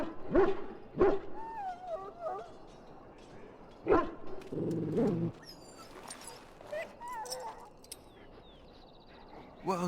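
A dog in the fantasy video game Dragon Age: Origins gives a few sharp barks and high whimpers and whines, with spoken voices heard between them.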